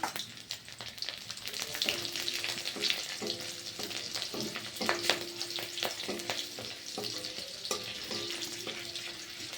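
Black cumin, green chillies and garlic frying in hot oil, a steady dense sizzle with crackling pops and repeated scraping stirs of a spatula against the pan, close and without talk.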